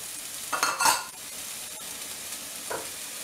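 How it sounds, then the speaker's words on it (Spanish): Chopped onion and two garlic cloves go into hot oil in a pan for a Riojan rice dish, giving a burst of sizzling and stirring early on, then a softer steady frying hiss with a brief stir near the end. "vamos a freír lo que es la cebollita. La cebolla con el ajo y el tomate."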